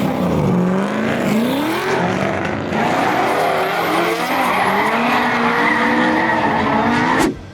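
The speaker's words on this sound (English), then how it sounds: "I think these guys are going out for a drift session now." Cars drifting at a MotorEx motor show hall, tires squealing and skidding with rising, wailing engine notes, loud and continuous throughout, close by and filling the space until an abrupt cutoff at the end.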